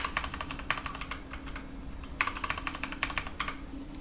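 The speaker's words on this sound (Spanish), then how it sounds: "Y ahora la contraseña para el usuario Alexia." A user password is typed on a computer keyboard while setting up a Linux system: rapid, close keystroke clicks in two quick bursts separated by a brief pause.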